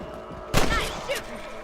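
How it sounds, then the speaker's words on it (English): A single loud, sharp gunshot in Red Dead Redemption at a shooting range, with a short ringing tail and a faint second crack, heard alone. "Shooting rabbits and outlaws, I see."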